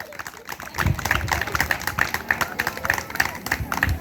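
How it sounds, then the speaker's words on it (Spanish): A church congregation at an evangelical service claps along in a steady rhythmic beat, a crowd of hands close and fairly loud with faint voices mixed in. "Denle un aplauso a Cristo."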